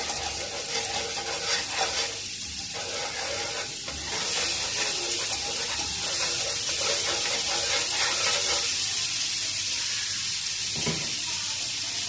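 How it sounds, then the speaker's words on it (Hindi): Ginger garlic paste fries lightly in about two tablespoons of hot cooking oil in a pan, giving a steady, close sizzle with occasional stirring scrapes throughout. "इसे हल्का सा फ्राई करके"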